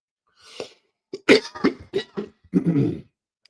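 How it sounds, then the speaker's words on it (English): A short run of coughs from a person with a cold, about six dry, hacking bursts close together, preceded by a soft throat sound, loud and near. "I ain't want to be coughing on the mic on you"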